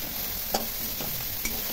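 Chunks of bottle gourd are stirred through spice paste and onion in a hot pan, a steady soft sizzle broken by a few scraping strokes of the spoon, close and with no talking.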